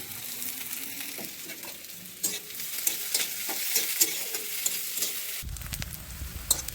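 Chopped onions sizzle and crackle in hot oil, a continuous frying hiss with occasional stirring scrapes, turning denser and louder toward the end.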